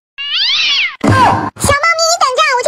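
A kitten that has fallen into a well meows loudly and rises in pitch, then a person speaks and imitates the kitten's meowing in a high voice.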